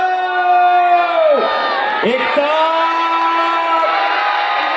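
Spectators at a 2025 wrestling ground in Baramati, watching Sikandar Shaikh face Bhola Thakur, shout and cheer in a sustained loud roar, with a single voice briefly rising above the crowd.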